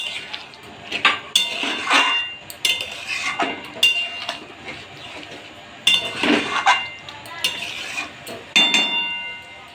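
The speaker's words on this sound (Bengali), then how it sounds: "ডিমগুলো এক এক করে অ্যাড করে দেবো। দিয়ে অল্প করে নেড়ে নেব।" Metal utensil stirring eggs into egg biryani in a cooking pot, with repeated scraping clinks and clatters of spoon against the pot in short irregular bursts, close and moderately loud, no talking.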